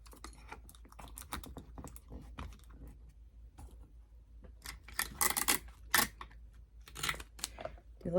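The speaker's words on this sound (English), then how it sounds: "And I'm going to add some more tape to this." Tape is pulled and pressed onto a Dollar Tree tray at close range, a series of sharp crackles, rips and taps, sparse at first and then louder in quick bursts.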